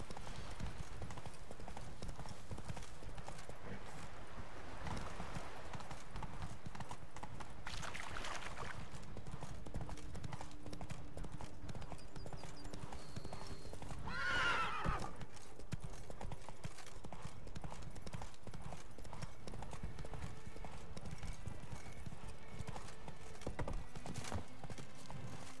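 Steady, rhythmic hoofbeats of a horse galloping in The Witcher 3: Blood and Wine continue throughout, with brief occasional voices in the background.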